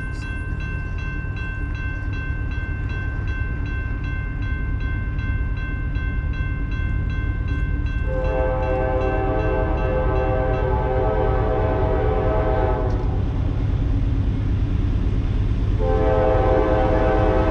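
Southbound freight train with Union Pacific power passing in Braswell, Georgia, with a loud continuous rumble and a horn blowing repeatedly, its long chords swelling and breaking off, heard close by.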